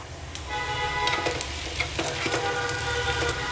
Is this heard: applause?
no